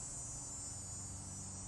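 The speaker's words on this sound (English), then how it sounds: "Cicada." Steady, continuous insect drone from a cicada, a high shrill buzz holding level throughout at a moderate distance, with no voices.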